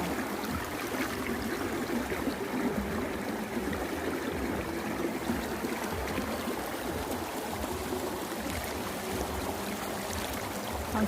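A village stream rushes strongly, a steady, dense wash of flowing water that stays close and fairly loud throughout with no voices over it.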